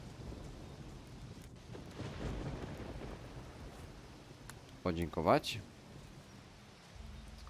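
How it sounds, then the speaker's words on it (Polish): A thunderstorm with rain in the video game Risen gives a steady hiss of rainfall and low rolling rumbles, with a stronger swell midway, while someone talks over it. "I się ta burza już skończy."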